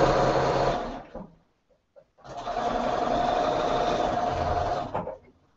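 Sewing machine webbing quilt blocks together for a gray modern quilt, running steadily in two long bursts separated by a brief pause, close and loud with no talk.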